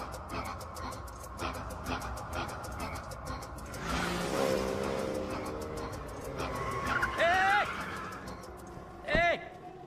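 A car pulls away on a street with tires scuffing and the engine noise swelling, while voices shout over it.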